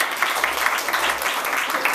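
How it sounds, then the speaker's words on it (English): A small audience at a literary reading gives a short burst of steady applause for a reader, a brief, even rush of clapping at moderate loudness. "Everyone give a round of applause for Lan Pham"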